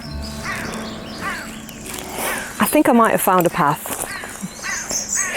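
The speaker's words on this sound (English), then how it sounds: "There's a very angry crow up there." A crow caws loudly from a tree above a woodland stone circle, a run of harsh repeated calls close overhead while a person talks over them.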